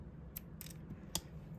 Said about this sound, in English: Now your smaller string right here, I want you to cut that off.